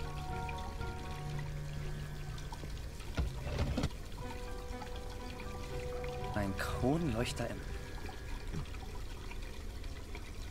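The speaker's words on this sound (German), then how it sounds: "Kann ich jetzt bitte das Wasser wieder abdrehen?" Hot water running from a tap in the Black Mirror 2 adventure game, a steady pouring wash under ongoing speech, with a couple of brief louder splashy bursts partway through.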